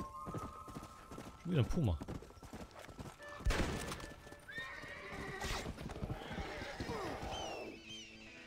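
Horse hooves clip-clop and a horse neighs in the Western open-world video game Red Dead Redemption, with hoofbeats running steadily through and a whinny near the end, while someone talks over the sounds.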